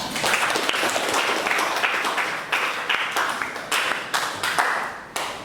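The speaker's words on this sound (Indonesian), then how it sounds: "Tepuk tangan semua." A classroom full of students clapping together, a dense burst of applause that continues for several seconds, with individual claps standing out as it tapers.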